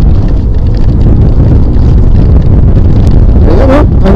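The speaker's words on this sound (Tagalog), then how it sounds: "Yung rinig yung makina niya dito sa, ano? Yung tambucho niya." A Fekon Venture 150 motorcycle's engine and exhaust drone steadily and loudly while being ridden in the rain, with heavy wind buffeting the microphone throughout and a brief rising pitch near the end.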